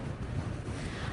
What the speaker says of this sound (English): I know it's very windy, and the wind is pushing you around on the campus right now